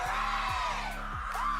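Fans whoop and yell for the Texas Longhorns at a Friday night college rugby match against Texas A&M, a sustained, fairly loud burst of shouting and cheering with no clear talk over it.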